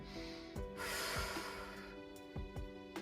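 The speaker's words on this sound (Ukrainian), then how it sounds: "Вдих." One slow, deep inhale during a gentle postpartum breathing and pelvic floor exercise, a soft, airy hiss lasting about a second, close and quiet, with no talking.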